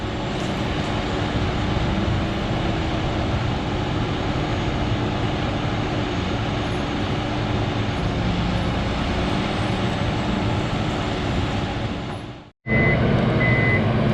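Ponsse Buffalo forwarder machine working in a Welsh forest thinning, with a loud, steady engine drone and hydraulic whine, close by and continuous, briefly cutting out near the end with a faint beep after.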